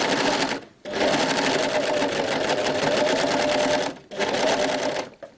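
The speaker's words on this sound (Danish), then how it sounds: "starter jeg igen bagvendt, altså kører ud mod kanten og vender overlocken" Overlock serger stitching a side seam on a dolman dress, a loud rapid stitching whir running in long bursts with two brief pauses, close up and without talk.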